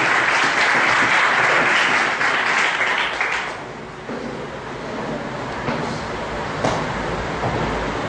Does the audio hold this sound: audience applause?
yes